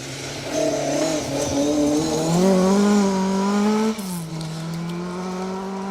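A smartly painted Mark II Escort rally car blasts through a forest stage, its engine note climbing steadily through the gears, loud and close, then dropping sharply on a gear change or lift near the end before droning on. No one speaks.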